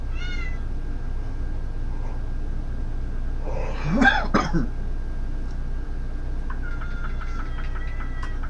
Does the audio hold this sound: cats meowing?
yes